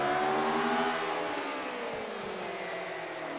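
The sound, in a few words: McLaren M23 race car engine in Forza Motorsport 5 video game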